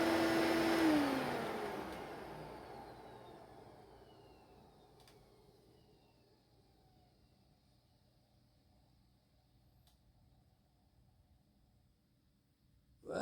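A 1990s Bissell PowerForce PowerBrush vacuum cleaner motor spins down from high speed. A loud whine slowly drops in pitch and fades over about thirteen seconds to a faint low hum, with no talk.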